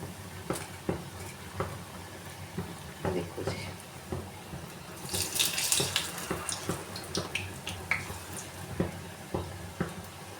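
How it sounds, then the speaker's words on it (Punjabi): Dough balls mixed with soda dropped one by one into hot oil, frying with a steady sizzle broken by soft clicks and splashes as more go in, a brief louder crackling burst midway. "ਇਸ ਤਰ੍ਹਾਂ ਜਿਹੜੇ ਪੱਲੇ ਨੇ ਉਹ ਬਣਾ ਕੇ ਆਪਾਂ ਤੇਲ ਦੇ ਵਿੱਚ ਛੱਡੀ ਜਾਵਾਂਗੇ"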